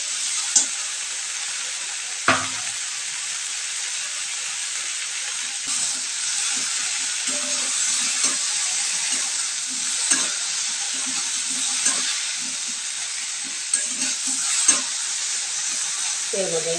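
Okra stir-fried with mustard spice paste in a pan, a constant loud hiss of frying oil with regular knocks and scrapes of a spatula stirring, under occasional talk.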